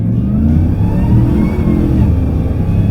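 A powerful 840 HP 1970 Chevelle muscle car engine roars loudly and revs upward as it accelerates hard, a continuous close-up rumble with rising pitch.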